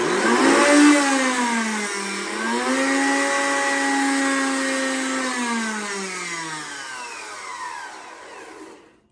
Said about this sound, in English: this is a Blendtec. It is a high-powered blender.